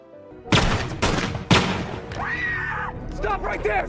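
Three loud, sharp gunshots from a police officer in a film scene, evenly spaced about half a second apart. Tense voices shout right after the last shot.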